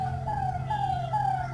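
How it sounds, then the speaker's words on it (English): A fire engine siren wails in steady rising-and-falling sweeps, heard alone and moderately loud over a low rumble as the truck approaches through rain. "Oh, fire engine is coming."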